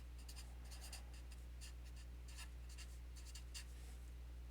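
Pencil or pen scratching on paper while a truth table is written out, a run of short close strokes in bursts with brief pauses, over a steady low hum and no talk.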